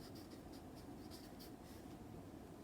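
A pen scratches across paper in short strokes while lettering a craft faux polaroid, quiet and close with no talking.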